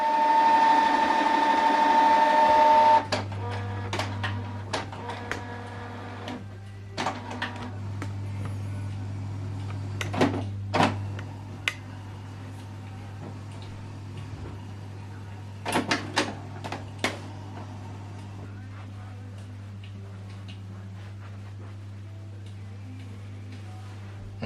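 Canon Pixma TR4751i printer mechanism adjusting for first use after ink installation, a steady low motor hum with scattered ticks, clicks and clunks of moving parts, preceded by a brief high whine at the start.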